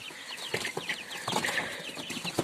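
Startled chickens and ducklings scatter in their pen, with soft bursts of flapping wings mixed with faint peeps and clucks, fairly quiet and close.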